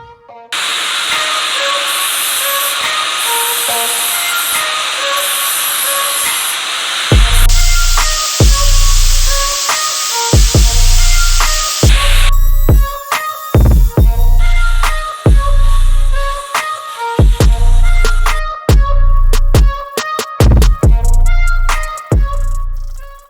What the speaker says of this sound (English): I will go ahead and clean that up with the grinder and maybe a little bit by hand too